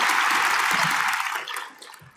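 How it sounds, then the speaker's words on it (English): An audience at a Think Tank 2020 forum on South and North Korea gives a warm round of applause for a former prime minister, a dense clapping roar that fades out within about two seconds. "let us send a warm round of applause to former Prime Minister"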